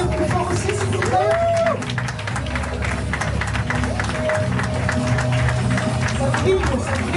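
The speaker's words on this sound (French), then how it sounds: "On peut l'applaudir plus fort aussi, s'il vous plaît." A press conference audience at a film festival breaks into sustained applause, a dense wash of clapping mixed with crowd murmur, with a voice speaking over it throughout.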